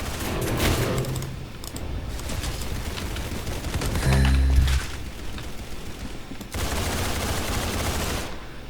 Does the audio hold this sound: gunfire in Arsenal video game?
yes